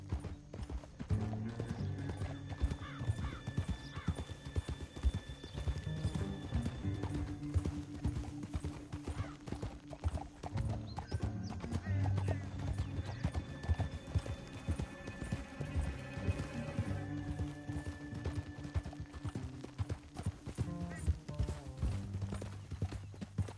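Horses' hooves clip-clop steadily throughout the Red Dead Redemption 2 game, close and continuous, with an occasional whinny and sustained musical tones beneath.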